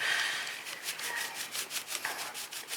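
Brush scrubbing years of brake dust off a Yamaha MT-09 brake caliper, quick close scratchy strokes in a rapid back-and-forth rhythm, brief and without talking.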